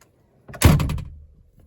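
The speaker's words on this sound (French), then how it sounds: "Petit test du bruit pour fermer la porte." A single solid car door thunk from a 1979 Peugeot 305, close and fairly loud, with a short low resonance fading out afterward.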